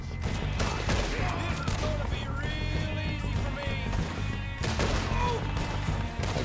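Gunfire in Red Dead Redemption 2 amid a Wild West skirmish, scattered shots over a dense layer of horse whinnies and hoofbeats, with a voice briefly audible in the mix.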